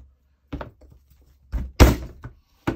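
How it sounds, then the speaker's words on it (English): A lid is banged down onto a tin of chalk paint, giving a few separate hollow metallic thunks over a couple of seconds, the loudest one in the middle, with quiet gaps between. "Excuse the noise while I bang the lid down."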